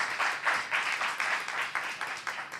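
A congregation at a Korean Saturday worship service claps together in steady, rhythmic bursts lasting a few seconds, filling the room at moderate loudness with no talk over it.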